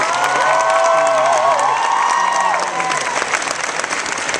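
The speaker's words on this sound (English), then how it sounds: "So please give yourselves a round of applause" A large Comic Con convention crowd claps and cheers loudly, with whoops and high shouts rising over sustained dense applause that stays strong throughout.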